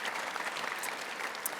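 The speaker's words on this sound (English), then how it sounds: "And yes, please, clap." An awards show audience applauds at the start of the evening, a dense, continuous patter of many hands clapping at moderate volume, with a few sharper individual claps standing out.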